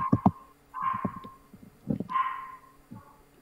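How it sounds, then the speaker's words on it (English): Cartoonish tin-can dog barking from the Blood on the Clocktower game: several tinny, metallic yips and barks in short bursts, close and fairly quiet, with no talking. "It's not normal dog barking, it's tin can dogs."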